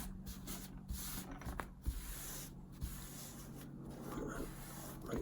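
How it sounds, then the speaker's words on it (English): Tissue rubbed firmly over glued card on an N gauge scratch-built station model, a soft, continuous close-up scuffing with a few small knocks. "I'm going to take a piece of tissue and give it a proper rub over"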